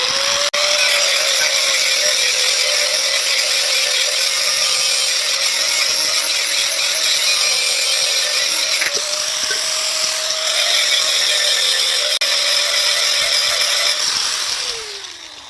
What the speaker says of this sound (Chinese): 咱们可以用家里的角磨机啊或者砂轮机打磨一下